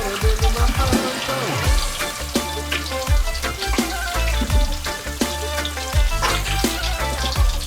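Vegetable pieces coated in gram flour batter fry in hot oil as Indian snacks, giving a steady bubbling sizzle with scattered pops and clinks throughout, loud and close.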